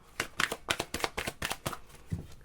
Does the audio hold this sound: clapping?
no